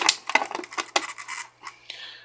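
Brine shrimp being stirred inside a bottle, giving a run of quick, close scratchy knocks and clinks that thin out into a few separate taps.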